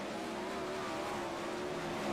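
410 sprint cars race at Cedar Lake in a sim racing game, engines holding a continuous high droning whine, steady and fairly faint, with no voices over it.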